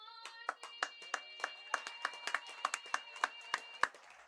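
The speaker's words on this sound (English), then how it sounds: "Give her a big round of applause." After the national anthem at a baseball game, scattered hands clap in a fairly sparse, uneven rhythm of distinct claps rather than a dense roar, heard at a moderate distance.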